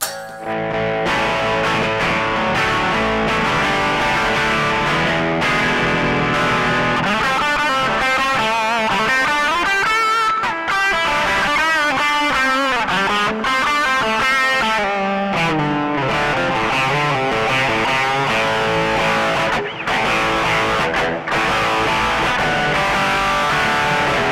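Electric guitar through a compulsive drive overdrive pedal on a Line 6 HX Effects plays chords and melodic runs with a gritty, saturated tone, continuous and loud with no talking.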